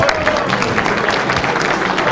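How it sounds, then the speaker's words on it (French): Crowd at a motorcycle rally weekend clapping loudly and continuously, a dense close patter of many hands with a few voices mixed underneath. "Vous pouvez également applaudir Jean-François Boissonneau"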